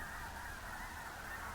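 A large flock of snow geese honks continuously at a distance, a dense, faint wash of overlapping calls at a migratory stopover, with no speech.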